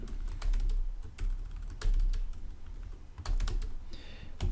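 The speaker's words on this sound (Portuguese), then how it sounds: "Então eu vou escrever lá, nome." Rapid, steady clatter of keystrokes on a computer keyboard while entering field names for an Excel VBA and Access registration database, close and fairly loud, with brief pauses between bursts.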